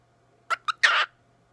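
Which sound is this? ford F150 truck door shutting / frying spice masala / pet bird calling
pet bird calling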